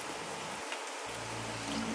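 Soft, steady patter of rainy-season rain, a continuous hiss of drops falling on surfaces, quiet and unbroken for the whole stretch.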